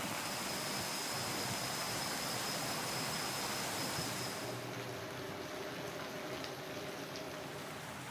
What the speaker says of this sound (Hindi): जिले में हो रही बारिश के कारण बाजार पानी से लबालब हो चुके हैं, घरों और दुकानों में भी पानी भर चुका है।